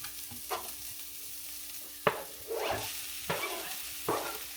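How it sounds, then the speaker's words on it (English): Fajita meat sizzles in a hot pan under a soft, constant hiss, broken by short, scraping bursts of stirring every second or so. "So I think I'm going to go ahead and add the meat now."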